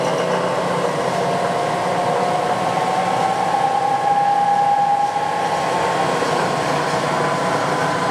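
A Clausing 2276 drill press motor and spindle run steadily at high speed, around 750 RPM, giving a smooth, continuous whirring hum with a faint tonal whine, close and unbroken with no talking.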